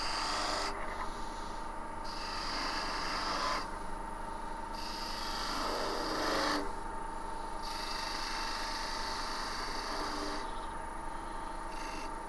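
Skew chisel cutting a small wooden piece spinning on a lathe, a continuous close, rasping hiss that swells and fades in several passes over a steady machine hum.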